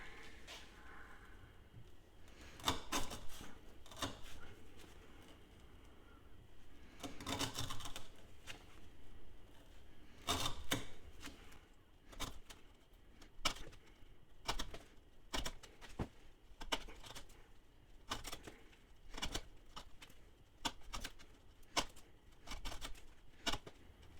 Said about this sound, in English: we're going to cut up some of this 1/2 inch twist